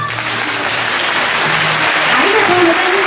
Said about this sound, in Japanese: これから私がせーのと言いますので皆様は一斉に拍手をしてみてください。